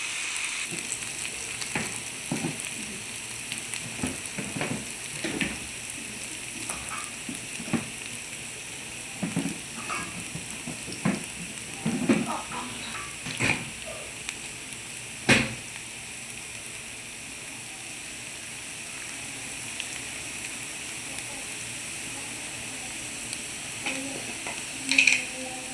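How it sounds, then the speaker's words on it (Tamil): Steady sizzling hiss of spices with turmeric and chilli powder sautéing in a pan for sambar rice, with occasional clicks and scrapes of stirring over it. "ஒரு 5 நிமிஷம் வதங்கிட்டுங்க."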